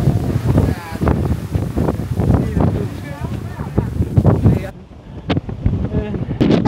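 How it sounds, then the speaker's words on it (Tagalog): Strong mountain wind at Fansipan in Sapa, Vietnam roars and buffets the microphone continuously, with people talking loudly over the gusts. "sobrang lakas ang hangin"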